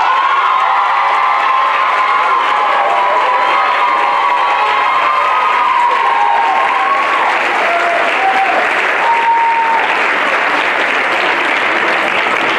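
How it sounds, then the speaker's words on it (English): Loud, sustained applause from a large crowd at a high school graduation ceremony, with cheering and whoops rising throughout, steady and close. "you guys need to stand and clap for them, Ms. Wache and Ms. Rodriguez."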